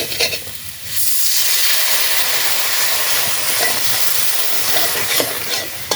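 Water poured into mutton curry spices in a pot on a clay stove in a village kitchen bursts into loud, steady sizzling and bubbling that carries on for several seconds after a brief quieter start.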